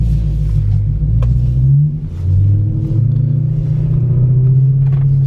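A car drives around a parking lot, its engine rumbling loud and close, with rising and falling revs and a brief dip as the driver changes speed, no speech.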